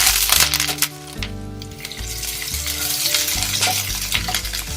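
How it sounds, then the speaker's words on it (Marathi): Cumin seeds sizzle and crackle steadily in hot oil in a home kitchen pan, a loud continuous fry with scattered pops, while tonal music plays underneath throughout. "तेल गरम झाले, आपण टाकतोय जिरं."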